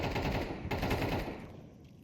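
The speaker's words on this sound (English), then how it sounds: "More gunshots being rung out through the boards, exchanging lots of damage." Rapid bursts of automatic gunfire from the video game Counter-Strike crackle close and loud in a dense stream, then trail off into a fading echo.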